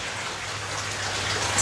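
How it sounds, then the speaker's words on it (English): Steady rainfall with a dense, even patter that holds at a constant level and swells slightly at the end, heard alone with no voices. "So we've got the rain"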